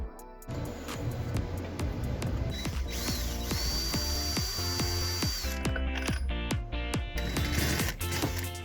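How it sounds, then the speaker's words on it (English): A power drill whines in short bursts, drilling a hole through the middle of a lid, mixed with clicking, ratcheting clatter close by, with no talking. "I'm going to need to drill a hole in this middle area of the lid"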